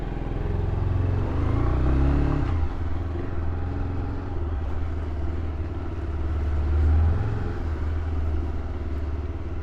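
Bajaj Pulsar 180 motorcycle ridden over a very large speed breaker, a steady close engine drone with a brief dip and bump around the obstacle, then rising revs, continuous throughout with no talking.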